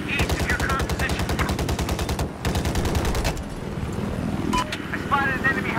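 Rapid, loud bursts of machine gun fire in the video game Battlefield 4 rattle in a fast, even stream, break briefly, then resume before fading under engine noise and a voice.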